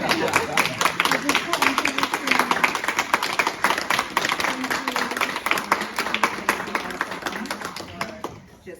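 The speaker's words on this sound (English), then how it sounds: "I'm just going to clap" A small audience applauds after a panel discussion, a long run of quick, dense handclaps that keeps going for several seconds before slowly thinning, with voices faintly underneath.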